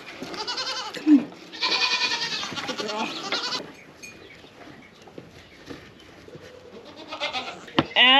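Dairy goats and their kids bleat on a farm, several loud, wavering calls overlapping in quick succession, with quieter rustling and scattered bleats in between.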